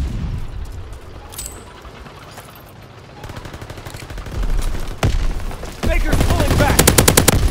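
Rapid gunfire and machine-gun bursts from the Call of Duty WWII video game, building from scattered shots to loud sustained rattling, with a voice briefly calling out amid the firing.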